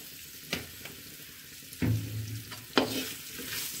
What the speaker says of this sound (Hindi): अब इसमें अच्छे से जो है हम मिक्स कर लेंगे अपने अचार को मसाले के अंदर।